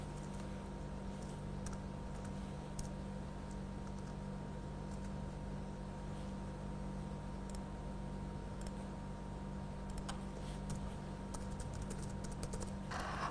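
Continuous typing on a computer keyboard, a steady patter of light key clicks over a low background hum, close and moderately quiet, with no voices.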